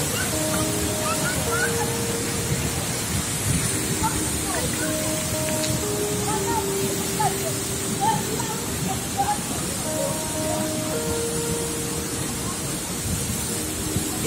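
The Davesta waterfall at Curup rushes in a steady, dense roar of falling water over rocks, with faint bird calls and chirps weaving through the constant wash.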